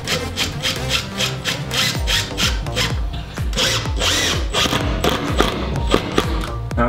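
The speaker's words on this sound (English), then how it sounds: "All right, get yourself a nice load of these back screws. Then all you need to do is head down the marks that you've got." A power drill drives screws into chipboard flooring, giving repeated close whirring bursts with brief pauses between them and a scraping bite as each screw sinks into the board.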